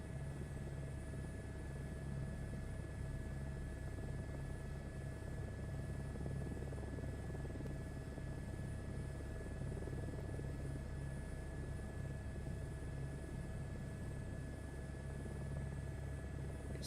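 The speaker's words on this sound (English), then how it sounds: "I think this helicopter sounds pretty damn good." A helicopter engine and rotor hum continuously in Microsoft Flight Simulator 2024 on Xbox Series X, a steady droning whine with low rumble, unbroken and without speech.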